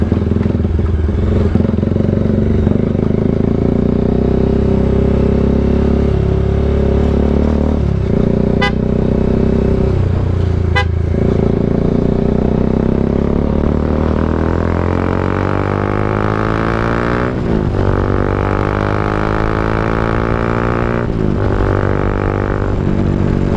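Bajaj Dominar 400 motorcycle engine running steadily throughout while riding, with a loud continuous drone whose pitch rises and falls with throttle changes, two brief sharp clicks near the middle and shifting revs toward the end.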